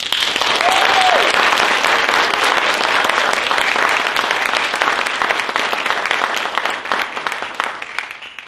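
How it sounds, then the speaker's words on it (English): A crowd applauding loudly and continuously at a college commencement ceremony, dense clapping that slowly thins toward the end, with a brief voice heard early on. "Let's show our appreciation to everyone with a round of applause."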